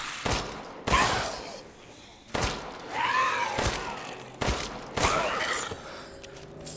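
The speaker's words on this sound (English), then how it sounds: "So many shots to kill" Gunfire in the video game Resident Evil Village: a handful of sharp, loud shots come at uneven intervals, each cutting off suddenly, with some faint game noise in between.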